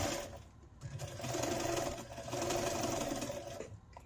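A sewing machine stitches the seams of a fall pillow cover in close, steady bursts, the motor whirring up, easing briefly, then running again before slowing to a stop.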